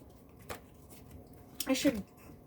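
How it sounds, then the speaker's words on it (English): Tarot cards being shuffled in a brief riffle up close, a faint tap followed by a louder burst of shuffling near the end, with no talk. "I did shuffle these cards"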